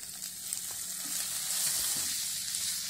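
Chopped onion sizzling in garlic-flavoured oil for crispy chilli gobhi, a steady close hiss of frying with a few soft scrapes of stirring, no voices.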